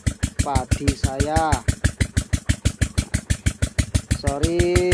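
A small irrigation water pump engine thumps in a fast, steady tak-tak rhythm close by, with a person talking over it.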